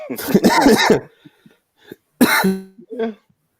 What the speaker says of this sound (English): I got my cough